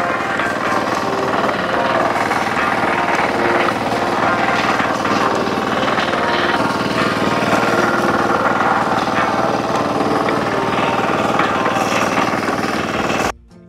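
A Firman mini hand tractor plow engine runs steadily and loudly up close on a dry field, a continuous chugging drone with no pauses, cutting off abruptly at the end.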